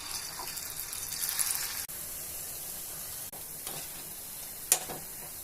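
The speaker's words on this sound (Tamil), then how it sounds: "இப்போ பேனில் எண்ணெய் காஞ்சோடனே இந்த காளானை டீப் ஃப்ரை பண்ணி எடுத்து வச்சிடலாம்." Mushrooms dipped in batter deep frying in hot oil in a pan give a steady close sizzle and hiss with a few sharp clinks, and no one talks.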